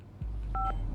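A satellite phone gives off a single short dialing beep, clear against a low, steady hum.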